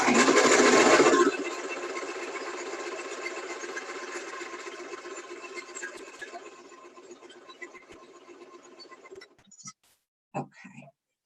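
Sewing machine stitching a fabric bowl cover, a short loud burst and then a steady, fairly quiet whirring run that fades out after about nine seconds, followed by a few soft clicks.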